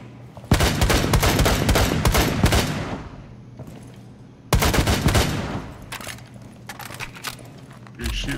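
Automatic gunfire from Rainbow Six Siege on the Plane map in a team deathmatch comes in two dense, loud rapid bursts separated by a short pause, with scattered lighter clinks and shots after them.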